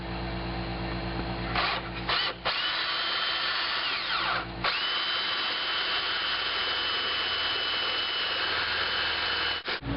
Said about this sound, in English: let's locate this hole, drill it